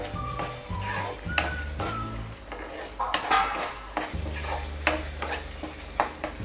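Gravy with hot green chillies being sautéed in oil in a pan for a matar mushroom masala, with a spoon scraping and clinking against the metal in an uneven rhythm under a low cooking hiss.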